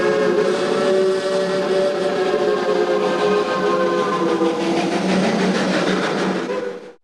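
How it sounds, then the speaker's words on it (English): A steam train's whistle sounds as the train enters a tunnel, one loud, sustained multi-tone blast holding steady before cutting off sharply at the end, with no other sound over it. "the train entered a tunnel."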